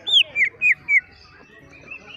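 A large-bodied green leafbird (cucak ijo) at a songbird competition gives four loud, close, descending whistled notes in quick succession, followed by softer, fainter chirps.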